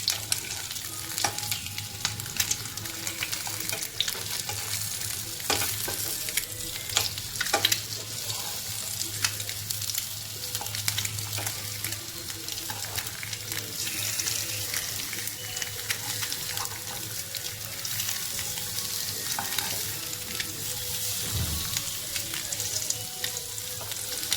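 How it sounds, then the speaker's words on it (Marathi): Egg tawa masala frying on a hot griddle, with a steady close sizzle and occasional stirring clicks running throughout. "आता पण वरची साईड आपण फ्राय करून घेणार आहोत"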